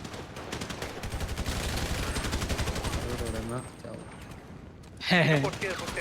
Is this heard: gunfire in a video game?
yes